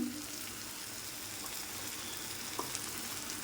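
Ingredients sautéing in a pan while being cooked down with milk and kasuri methi, a soft continuous sizzle with faint scraping stirs, fairly quiet and steady without talk.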